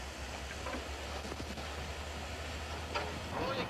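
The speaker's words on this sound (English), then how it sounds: "Start the train." A train starting to move on a film set for a dangerous stunt take, a low steady rumble with faint rail clatter and scattered clanks, moderately distant.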